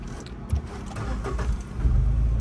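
A car engine being restarted during reversing practice at a driving lesson: a short starter crank, then a steady idling rumble that swells slightly louder toward the end, close by.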